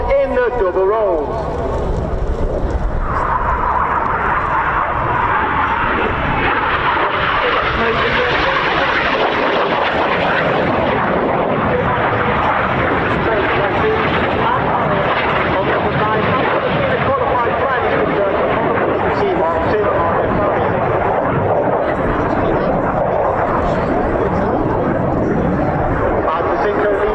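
Display aircraft at the RAF Cosford Air Show roar overhead in a loud, sustained engine drone that swells and shifts in pitch as they pass, with an announcer talking over it.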